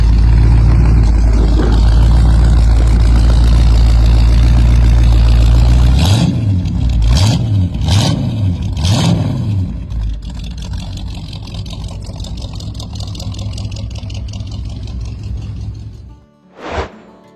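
A 1980 Oldsmobile wagon pro street build rumbles loudly at idle, then its engine is revved in three or four sharp bursts before settling back to a rough idle and cutting off.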